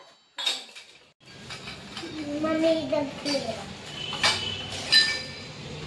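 Metal dishes and pots clink and clatter in a series of sharp knocks, with a voice chattering nearby throughout.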